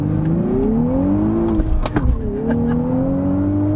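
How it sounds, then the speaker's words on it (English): A 2023 Nissan Z with a manual gearbox accelerates hard nearby, its engine note climbing steadily. A brief dip at a gear change is followed by another rising pull. "And one more acceleration just for good measure."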